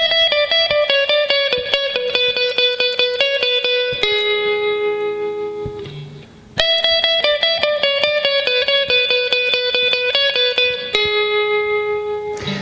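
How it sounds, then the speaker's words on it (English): A bright, sustained acoustic guitar lead phrase from the intro of a song, with repeated picked notes and heavy effects, played alone; it pauses briefly midway, then resumes. "on the intro, I think it's played with an acoustic guitar."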